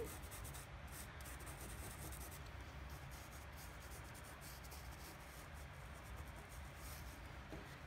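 Soft, steady rubbing as a finger tool burnishes Rapture Blue ink into paper through a coffee filter, a quiet continuous scraping close up with no voices.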